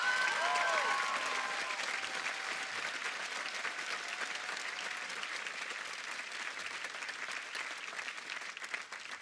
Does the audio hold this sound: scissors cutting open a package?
no